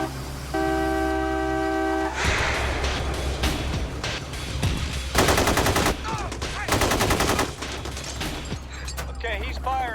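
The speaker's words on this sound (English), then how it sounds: "Okay, he's firing. He just shot through his own window." Rapid bursts of gunfire rip out in a street as a man fires through his own window, with loud volleys sounding amid traffic noise, a car horn and shouting voices.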